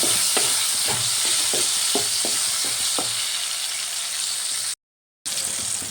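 Chopped tomato frying in oil hisses steadily while a spoon stirs in quick, regular scraping strokes, then the stirring stops and a brief silence cuts in before the sizzle resumes.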